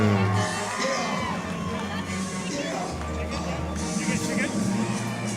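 Lively crowd cheering and whooping at a charity boxing night in Rockhampton, a loud, sustained roar of voices with shouts rising and falling over a steady hubbub throughout.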